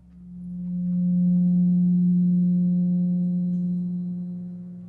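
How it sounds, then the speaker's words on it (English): A pure steady tone at 180 cycles per second with faint overtones, swelling in over the first second, holding evenly, then slowly easing off at the end, alone with nothing else. "let's listen to what the 180 total degrees contained in a triangle sound like."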